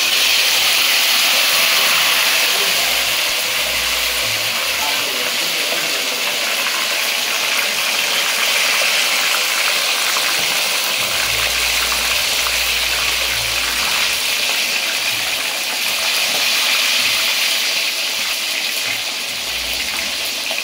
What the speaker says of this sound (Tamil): இப்போ ஒரு கடாயில் எண்ணெய் வச்சுட்டு இந்த சிக்கனை அந்த எண்ணெயில் பொரிச்சு எடுக்க போகிறோம்.